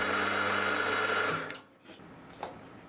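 A metal-cutting machine taking a cut on the face of a hexagon cover, a steady tonal mechanical whine that runs for about a second and a half, then winds down and stops, followed by a faint click.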